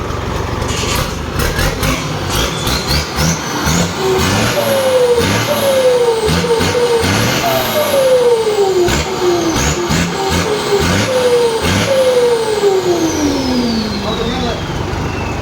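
A car engine is revved repeatedly through an aftermarket exhaust tip, with a series of loud, close rising and falling revs over an idle, while people talk in the background.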